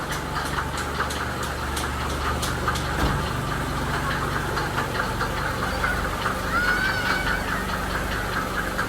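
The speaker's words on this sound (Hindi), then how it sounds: "Just listen to the smooth idle." A Mercedes W124 engine idles close by with its engine shield removed, a steady even hum carrying light rhythmic ticking and a faint whine, with no talking over it.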